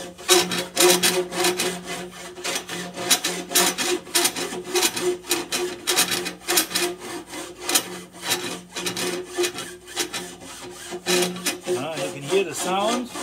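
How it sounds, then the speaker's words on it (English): A long-handled rasp scrapes solder drips from inside a metal organ pipe in quick, rhythmic rasping strokes, loud and close, carrying a faint ringing tone from the pipe body, with a voice briefly heard near the end. "You can hear the sound of the rasp following the body."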